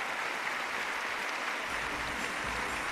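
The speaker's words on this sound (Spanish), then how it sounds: "Fuerte ese aplauso." Steady, broad wash of graduation audience applause filling a large hall, a continuous roar of many hands at moderate distance with no distinct individual claps.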